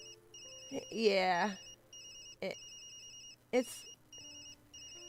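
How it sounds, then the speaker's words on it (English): A phone rings in the video game Tokyo Dark, repeating electronic trill tones in a steady pattern, clear and close, while a person speaks briefly over it. "That's my phone."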